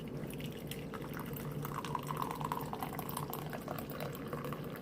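Boiled soursop liquid dripping and trickling through a strainer, a continuous close watery patter with small splashy drips.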